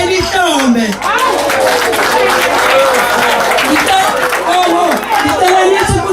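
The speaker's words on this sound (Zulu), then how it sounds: "Cela ningishayele ihlombe." A wedding crowd applauds and cheers in a steady, loud wash of clapping, with chatter and laughter mixed through the noise for the whole stretch.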